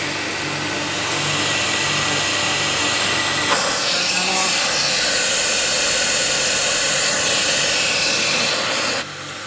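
CamVac dust extraction system running, a loud steady roaring hiss that swells to a harsher, brighter rush partway through and then drops sharply near the end.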